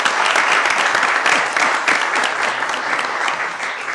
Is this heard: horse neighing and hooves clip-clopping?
no